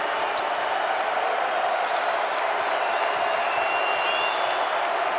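Basketball arena crowd at a North Carolina vs Syracuse college game roars and applauds steadily, a dense, loud wash of cheering and clapping throughout with no letup.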